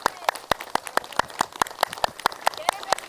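A group at a women's yoga session in Aligarh claps loudly in unison, about fifteen sharp evenly spaced claps in a quick steady rhythm, close and bright.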